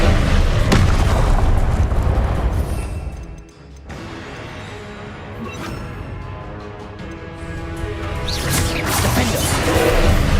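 Confringo fire-spell blasts in Hogwarts Legacy crash loud and close, with a heavy burst at the start and another near the end, separated by a brief quieter stretch of rumbling combat.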